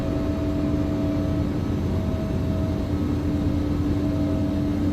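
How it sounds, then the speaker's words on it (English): Embraer 145 jet in a flight simulator game rolling out after landing with thrust reversers deployed, a steady broadband engine roar with a low hum holding evenly throughout, no voices over it. "Reversers are on."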